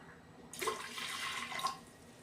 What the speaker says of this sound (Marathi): कुकरमध्ये आपण आता डाळीला लागेल थोडं पाणी टाकून घेऊया